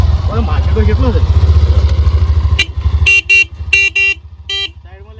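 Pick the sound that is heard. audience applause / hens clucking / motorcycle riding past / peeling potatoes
motorcycle riding past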